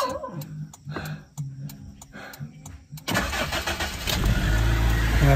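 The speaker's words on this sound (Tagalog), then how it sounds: "Start na natin tong sasakyan para ready na pag-alis." A car engine is started in the morning and left to warm up before a drive toward the mountains: quiet handling sounds first, then the cranking catch at about three seconds, rising into a loud, steady idle close by.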